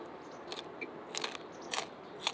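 Crunchy fried crab gangjeong, homemade whole crab bitten up close, giving several sharp crackling crunches in quick bursts with quiet gaps between, no talking.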